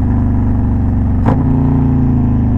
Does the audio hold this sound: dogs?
no